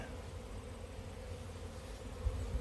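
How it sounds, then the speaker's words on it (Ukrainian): Honey bees at an apiary hive hum in a steady, low drone close to the microphone, continuous throughout with no talking. "Хай камера буде на бджіл."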